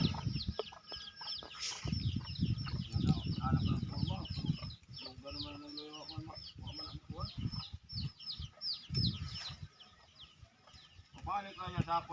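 Chickens cluck and chatter at a rural spot, a scatter of short irregular calls of varying distance mixed with rustling, wind and low background noise, with people talking at times.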